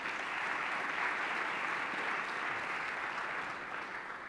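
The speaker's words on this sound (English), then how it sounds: "Please give him a big round of applause" A large audience at the World Economic Forum on Africa 2017 applauds in a dense, continuous wash of clapping that holds steady and then eases slightly toward the end.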